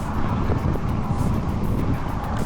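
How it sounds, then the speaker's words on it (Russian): Strong headwind roars against the microphone as a cyclist climbs a valley road near the village of Ash-Buzi in Tatarstan, giving a loud, constant, buffeting rumble with no speech. "Ветер не дает разогнаться вообще."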